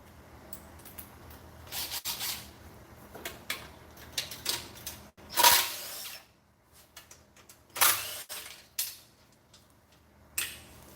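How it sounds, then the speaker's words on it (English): A cheap little impact gun works on the side cover of a Predator 212cc engine, firing in short, irregular rattling bursts with quiet gaps, close by and with no talk. "about the only thing that this cheapy little impact gun will take off is the side cover"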